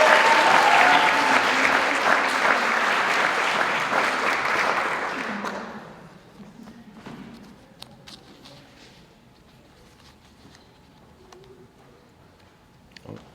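Audience at an Indigenous student graduation ceremony claps loudly for a graduate for about five seconds, then the applause fades to scattered claps, with pigeons cooing nearby in the quieter stretch that follows.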